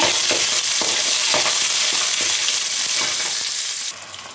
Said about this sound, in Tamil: கருவேப்பிலை, பச்சை மிளகா இது வதக்கிக்கோங்க.